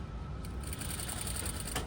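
A sewing machine stitches a seam on a princess flared dress, a close, quick, even needle chatter running steadily for a moment with no talk.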